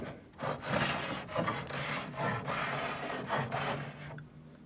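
Wood being shaved along the grain on the side of a drawer that doesn't fit, a series of rough rasping strokes in steady rhythm, close and fairly loud, with no talking.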